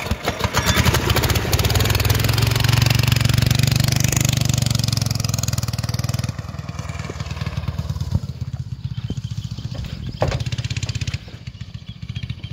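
A go-kart engine revs hard and accelerates outdoors, a loud, close buzzing drone that climbs and holds before easing off into choppier, uneven running with occasional knocks.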